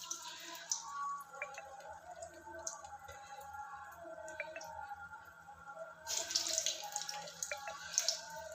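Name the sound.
dipping hand in water while shaping vada dough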